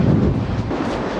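Heavy storm wind buffets the microphone while running outdoors in very stormy weather, a loud, rough, continuous roar and rumble with no speech.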